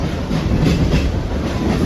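Loud rumbling rattle from inside a moving suburban train bound for CST, Mumbai, with steady rhythmic clatter of wheels on the tracks.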